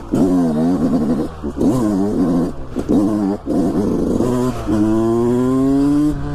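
Enduro motorcycle engine revving hard on a ride, loud and close, with repeated rising and falling throttle bursts and short dips before a long sustained climbing rev at the end.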